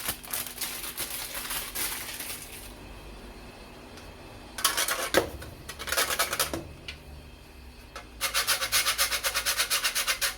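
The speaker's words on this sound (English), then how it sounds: "we're gonna also grate in some fresh cinnamon" A fresh cinnamon stick being grated for a homemade apple pie: close, dry rasping strokes in three quick rhythmic bursts separated by short pauses, fairly quiet.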